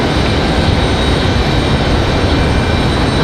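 American Airlines airliner on final approach at Raleigh-Durham International Airport, a loud, steady broadband engine roar with no distinct peaks, continuous and close.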